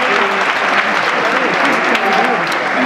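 Sustained applause from a large crowd at a graduation ceremony, dense and even clapping filling the whole stretch at steady loudness.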